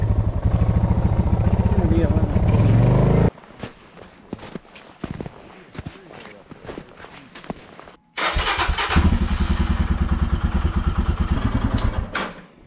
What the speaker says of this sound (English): stop the engine. Don't burn it up.